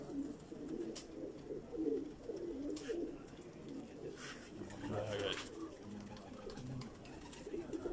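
Rare fancy pigeons cooing from a rooftop loft, soft repeated low coos close by, with faint background noise and occasional clicks.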